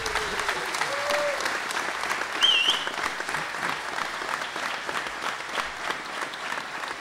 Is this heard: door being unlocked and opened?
no